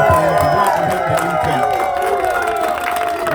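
Crowd at an airport rally in Elizabethtown, Kentucky cheering and applauding a senator's arrival: a dense, steady roar of voices and whoops with clapping underneath, loud and close throughout, with some music-like tones mixed in.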